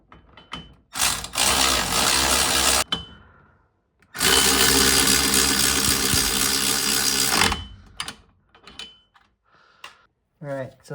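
Power tool tightening the rear wheel bearing bolts on a 1998-2002 Toyota Corolla, two long loud bursts of whirring close up, separated by short pauses, with scattered clicks and handling noises around them.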